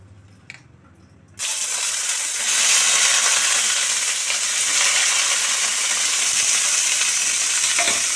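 Capsicum and onion drop into hot oil in a wok, setting off a sudden loud sizzle after a quiet moment. The frying hiss then holds steady and rises slightly as it continues.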